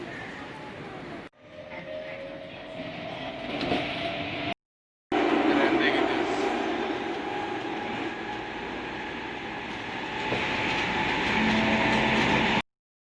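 A metro train in Istanbul rumbles and roars steadily along the rails, loud and continuous, with brief cutouts and a rising whine of wheels.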